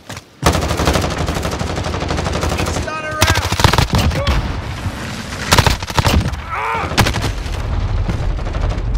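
Gunfire in the video game Call of Duty: Modern Warfare: sustained rapid automatic fire rattles throughout, mixed with heavier booms and scattered bursts, close and loud, with brief radio-like voice fragments underneath.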